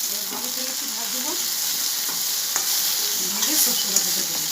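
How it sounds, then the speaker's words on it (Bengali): Okra with turmeric stir-frying in a hot pan: a loud, close, steady sizzle with intermittent scraping from stirring, and no speech. "এবার ভালো করে একটু ভাজবো"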